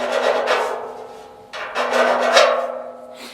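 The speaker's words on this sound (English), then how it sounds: "file down any rough bits of the chassis" Hand file rasping over the rough spots of a Land Rover Defender 300Tdi chassis, steady back-and-forth strokes close to the mic, with a short pause midway before the filing resumes.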